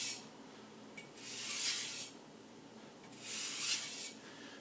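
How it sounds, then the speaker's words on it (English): Two slow strokes of a Takeda gyuto chef's knife drawn edge-trailing across a whetstone, each a soft gritty rasp lasting about a second, separated by a quiet pause, close and alone. "giving it a few edge trailing strokes on both sides"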